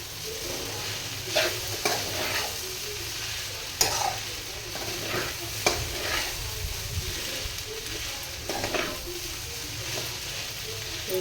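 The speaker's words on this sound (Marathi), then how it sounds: "थोडं हलवायला डिफिकल्ट जातं आहे." Hakka noodles are stirred and tossed in a hot pan, with a continuous frying sizzle and recurring scraping strokes of a spatula every second or two, close and without speech.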